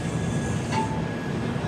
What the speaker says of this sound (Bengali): আমাদের ট্রেন এসে পৌঁছেছে জঙ্গিপুর রোড জংশন